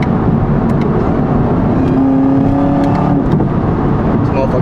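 A car engine roars steadily and loudly, revving with rising and falling pitch, close up and continuous throughout.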